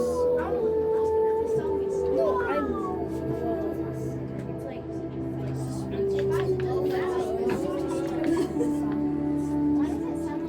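Several dogs howling together in long, wavering tones, loud and sustained, with people talking over them.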